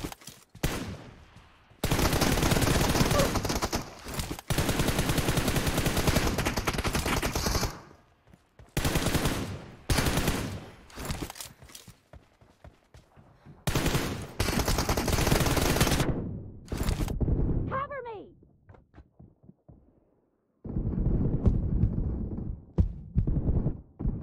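Teammates firing guns in PUBG: loud bursts of automatic gunfire in long, repeated volleys, separated by short silences, heard up close.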